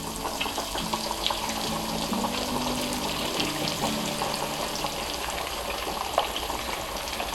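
Crumbed chicken deep frying in hot oil gives a steady, dense hiss and crackle that fills the whole stretch, loud and continuous with small pops and no voices.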